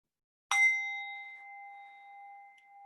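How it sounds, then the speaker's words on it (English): A Tibetan singing bowl is struck once, giving a sharp bright attack followed by a pure sustained ring that slowly fades over about two seconds in a quiet room. "It's a Tibetan singing bowl."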